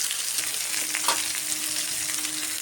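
Turmeric, cumin powder and salt sizzle in a hot pan of oil, a steady close frying hiss with light stirring throughout.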